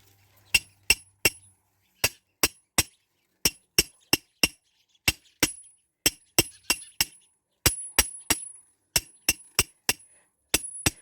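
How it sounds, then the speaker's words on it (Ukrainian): A hammer drives a homemade support stake for hydrangeas or roses into garden ground, with about two dozen sharp, ringing metallic strikes in quick rhythmic bursts separated by short pauses, close and clear against near silence. "Зараз другу опору забиваємо."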